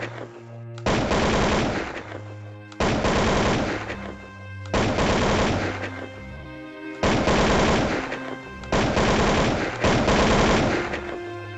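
Gunfire rings out just outside a house in six loud, sustained bursts of rapid shots with short pauses between them, dense and close, with no talking.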